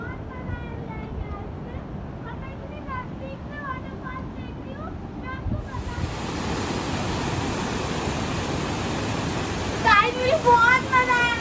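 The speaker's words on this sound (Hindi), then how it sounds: "मैं इतनी नजदीक से वाटरफॉल देख रही हूँ" Rushing water from a waterfall at Mahabaleshwar, a broad steady roar heard close by. It starts softer under a girl's chatter, then swells into a louder, fuller wash with more talk near the end.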